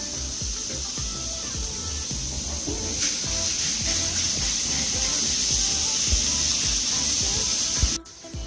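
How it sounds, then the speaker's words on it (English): A beef roast sears in a pressure cooker with no oil, giving a loud, steady sizzling hiss that holds constant for several seconds before cutting off sharply near the end. "we've got the beef roast browning in our pressure cooker"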